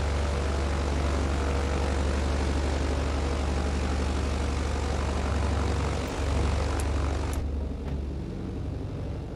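The propeller engines of a BN-2 Islander in Microsoft Flight Simulator drone loud and steady at close range, with a deep constant hum and a brief dip and couple of clicks near the end.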